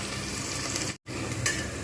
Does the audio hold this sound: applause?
no